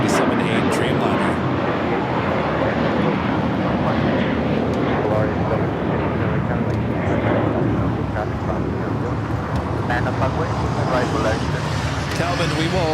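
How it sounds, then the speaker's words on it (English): A LATAM Airlines Boeing 787-8 Dreamliner jet on flight 1603 bound for Santiago, Chile, at Los Angeles airport, its engines roaring steadily and loudly throughout while a person talks over it. "this is Latam Airline Flight 1603 heading to Santiago, Chile, 787-8 Dreamliner"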